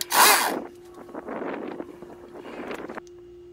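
A 1957 Evinrude 7.5 HP outboard motor catches with a loud burst, then settles into a steady close-up buzz of running with a constant hum for about two and a half seconds before cutting back.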